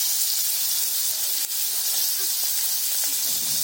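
Chopped onion and green chili dropped into oil left from frying fish, giving a loud, continuous bright hiss that holds evenly with barely a dip.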